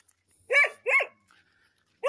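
A dog on a bush walk gives two sharp, close barks about half a second apart, then a short pause and the start of a third bark, with no talk.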